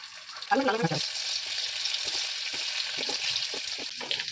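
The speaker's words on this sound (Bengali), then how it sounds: "তেল আমার গরম হয়ে গেছে, এবারে আলুগুলো দিয়ে দেবো" Hot oil hisses and sizzles steadily as potatoes fry in a pan and crackle, with a short voice at the start and brief utterances later.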